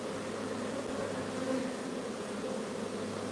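Honeybees at an open hive during queen introduction, a steady close droning hum of many wings, even and unbroken throughout.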